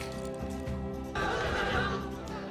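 A burro brays loudly and close by in the backcountry at Philmont, a harsh, rasping bray that surges suddenly over a rhythmic background and carries on to the end.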